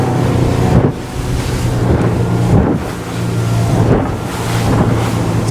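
A Lomac Adrenalina 7 boat running offshore across big rolling, confused ocean swells, giving a loud continuous engine and rushing water roar with heavy wind buffeting, rising and dipping as the hull meets waves.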